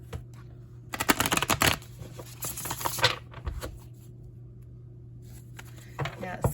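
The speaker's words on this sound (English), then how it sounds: "I just feel like I need to shuffle a couple more times" A deck of tarot cards is shuffled close by in bursts of crisp riffling and flicking, with quieter gaps between, and a voice speaks faintly around the shuffles.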